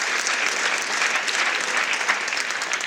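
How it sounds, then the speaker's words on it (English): Audience at a college athletics Hall of Fame ceremony applauding a coach, steady dense clapping at moderate distance filling the hall for a few seconds. "Yeah, definitely clap it up for Coach."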